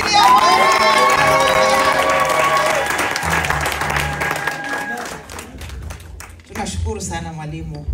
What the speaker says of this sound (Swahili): Makofi kwa ajili ya Bwana